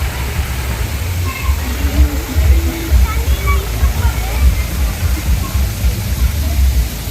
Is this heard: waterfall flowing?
yes